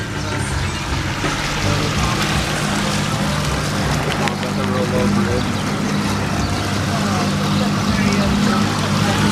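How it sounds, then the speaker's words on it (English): A 50-horsepower outboard motor drones steadily under rushing water and wind as a boat moves along a lake, with people talking over the engine noise. "Got ourselves an outboard. I think it's a 50 horse."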